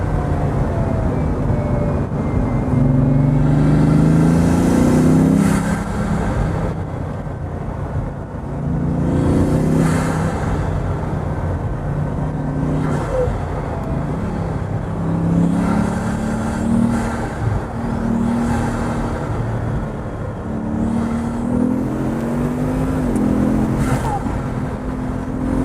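A Bugatti or Lamborghini sports car driving and accelerating, a loud sustained engine roar with rising and falling revs in several surges, close and continuous, with occasional faint voices underneath.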